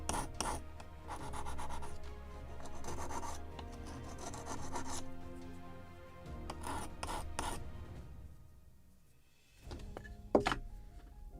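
Glue being scraped off a wooden part of a model gunboat Philadelphia gun carriage, heard as steady rasping rubs in bursts with short pauses, ending in a few sharper knocks and scrapes, close and fairly quiet.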